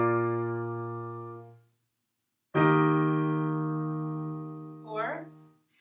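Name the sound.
piano playing a perfect authentic cadence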